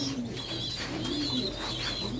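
Black Shuttle fancy pigeons coo steadily at a pigeon farm in Bangladesh, a low rolling call repeating close by over a constant background hum, with no voices present.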